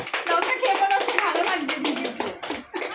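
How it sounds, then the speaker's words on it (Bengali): A small group claps hands in a quick, uneven patter at close range, mixed with excited talking and laughter over the claps. "সবাই হাততালি দাও"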